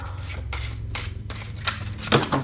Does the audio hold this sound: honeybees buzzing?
no